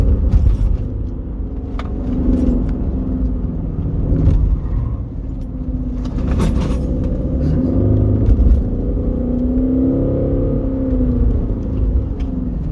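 Mercedes W204 car driving through corners in third gear, its engine a steady close rumble and whir that rises and eases slightly, with scattered interior clicks and rattles.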